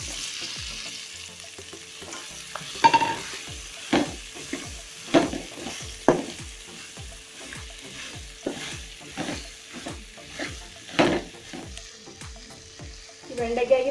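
Okra tossed into a pan and stir-fried for vendakka mezhukkupuratti, a steady sizzle punctuated by regular, fairly loud stirring scrapes repeating about every second, with no talking.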